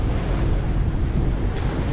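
Wind rushes over open sea near Catalina Island during a January sail, steady loud buffeting across the microphone with the wash of waves continuous beneath it.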